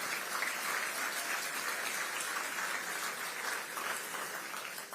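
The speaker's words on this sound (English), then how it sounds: "I want you to clap yourself." An audience claps steadily for several seconds, a dense, moderately loud patter of many hands with no voices over it.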